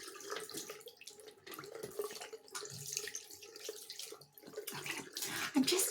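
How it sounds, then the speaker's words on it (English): Hot water runs steadily from a tap into a sink or basin while its temperature is checked indoors, a continuous close splashing stream with small bursts and drips, alone without talk. "I'm just checking the temperature of the water because I had to put the hot water on."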